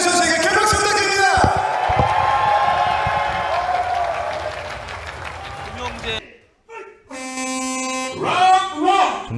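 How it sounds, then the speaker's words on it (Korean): A crowd at a combat sports event applauds and cheers for winning fighter Song Young-jae. A dense wash of clapping runs under an announcer's voice, then the noise drops and resumes in bursts. "다시 한 번 승리한 송영재 선수에게 큰 박수 부탁드립니다"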